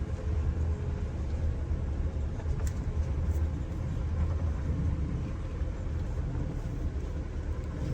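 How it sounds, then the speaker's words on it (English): A heavy Detroit Diesel engine in a Prevost bus that is down on power rumbles steadily at close range under acceleration, low and continuous, with a slight rise in intensity through the middle. "Testing the acceleration on it here."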